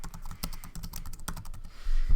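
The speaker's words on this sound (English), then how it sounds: "I'm going to hit D on my keyboard" Keys on a computer keyboard, including the D key, are tapped in a quick run of crisp, close clicks, followed by a low rumble at the very end, with no voice.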